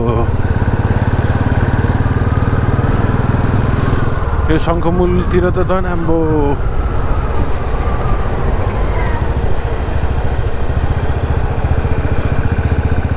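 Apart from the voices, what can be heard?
motorcycle riding in traffic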